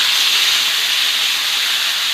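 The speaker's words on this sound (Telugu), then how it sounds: "ఇంకా మనం మ్యారినేట్ చేసుకున్న చికెన్ని ఇందులో వేసేసేయాలి. వేసుకొని కొద్దిసేపు ఇలా ఫ్రై చేస్తూ ఉండాలన్నమాట" Marinated Rayalaseema-style garlic chicken fries in a hot pan, giving a loud, close, unbroken sizzling hiss with no talk over it.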